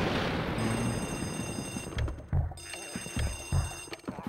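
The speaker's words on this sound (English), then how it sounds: "There's that phone ringing!" A telephone rings in Luigi's Mansion with a high, steady electronic bell tone held over a rumbling game background, joined by several heavy low thuds toward the end.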